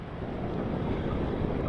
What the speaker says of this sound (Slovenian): ampak piha pa močen jugo